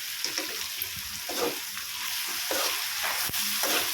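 Okra curry frying in a pan as tomatoes and coriander are stirred in, with a continuous hiss of sizzling and repeated scraping strokes, one sharp clink near the end.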